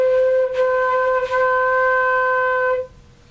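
A flute holds one steady note, restarted with soft tongued attacks about three times before it stops, played solo and close.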